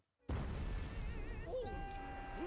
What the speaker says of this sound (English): Let's end it with an explosion.